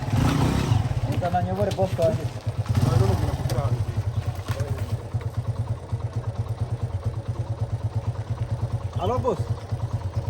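A motorcycle taxi engine idles in Kigali, a steady low throbbing pulse that runs the whole time beneath conversation between people nearby.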